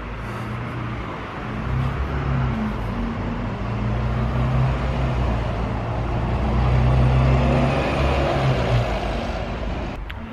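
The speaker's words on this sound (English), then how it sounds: "Look, the bus is over there." Bus idling and rumbling on a street outside a church, a steady low engine drone with broadband traffic noise that swells slightly as it moves, fairly close and continuous throughout.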